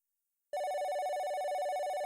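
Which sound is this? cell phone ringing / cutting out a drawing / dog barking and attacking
cell phone ringing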